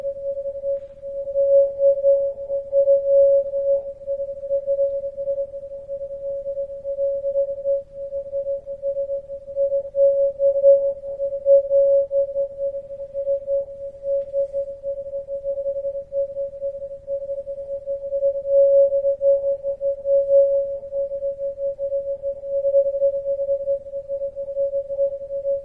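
A non-directional beacon radio signal comes through a receiver as a steady pure tone, continuous and clear, with slight pulsing swells in strength over a faint hum.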